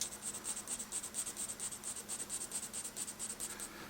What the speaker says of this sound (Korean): 지금 굉장히 참으면서 세로선만 차분하게 쌓아주고 있습니다